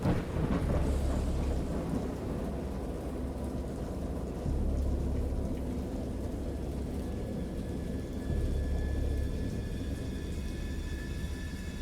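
Video game thunderstorm: heavy rain pours steadily while deep thunder rumbles and rolls in several long waves, close and loud.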